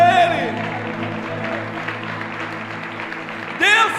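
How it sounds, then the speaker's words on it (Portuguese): A church congregation applauds during a Portuguese-language worship service, steady crowd clapping spread over the full length beneath sustained music, with a voice rising briefly near the end. "aplauda Ele"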